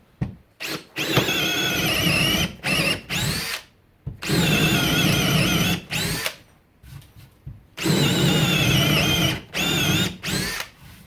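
A Makita XFD11 subcompact cordless drill bores into wood with a 1/2 inch bit, whining loudly in repeated bursts of one to two seconds separated by short pauses, heard up close.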